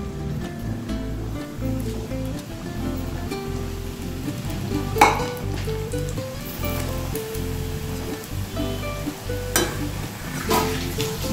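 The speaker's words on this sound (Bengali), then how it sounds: "দ্বিতীয় ব্যাচটাও ভেজে নেব।" Peraki snacks deep-frying in oil in a second batch, a steady bubbling sizzle heard up close, with occasional sharper clinks and stirring sounds breaking through.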